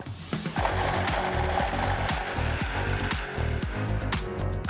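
A food processor crushes plain biscuits into fine crumbs, a loud continuous motor whirr with a rapid rhythmic chopping rattle that holds steady throughout, close by and with no voices.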